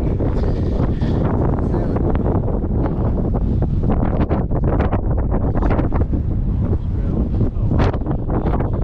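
Strong wind buffets the microphone on the exposed moorland of Kinder Scout in the Peak District, a loud continuous roar with gusty fluctuations throughout.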